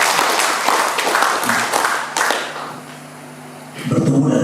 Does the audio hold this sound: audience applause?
yes